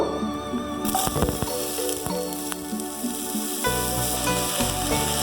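Onion hitting a little hot oil for a chicken momo filling, giving a steady close sizzle with scattered stirring and clinking sounds over background music.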